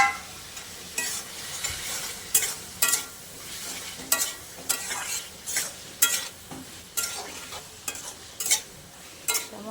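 Potatoes and taro stolons being stirred in a frying pan, a spoon scraping repeatedly in a steady rhythm over a soft continuous sizzle, close and fairly loud.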